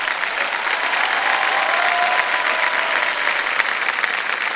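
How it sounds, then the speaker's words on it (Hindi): Loud, dense studio audience applause for Hema and Ramesh on a Hindi talk show about Sholay, a steady unbroken wash of clapping throughout with no talk over it. "तो एक बार जोरदार तालियां बज जाएं हेमा जी के लिए और रमेश जी के लिए"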